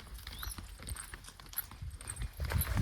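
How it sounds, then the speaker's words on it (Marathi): Several goats walk in a line on a village path, their hooves tapping in a loose, uneven clip-clop that stays fairly close, with faint rustle and background noise. "हे बघा शेळ्या घेऊन चालू."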